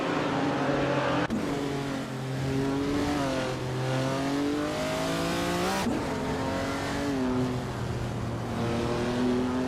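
A 1957 Ferrari 250 Testa Rossa and other race cars accelerate in a racing game, their engines rising and falling in pitch through gear changes with a steady, loud revving drone and no talk.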